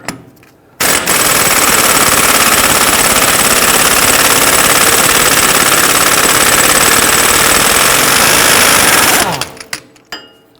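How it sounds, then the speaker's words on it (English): A 32mm deep socket loosens the rear axle nut on a 2010-2019 Ford Taurus with one long, loud, rapid hammering rattle of about eight seconds, close up, then fading into brief clatter. "We're going to use a 32mm deep socket to loosen and remove our axle nut."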